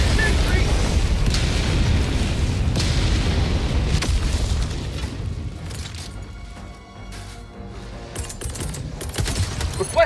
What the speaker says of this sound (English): Your freaking ship is aiming at us, man. Look at your ship. It's shooting at us.